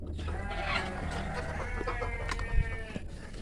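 Chickens raised as a small batch of young birds in a coop cluck and chatter continuously, several overlapping calls at close range, with a louder burst near the end and no talking.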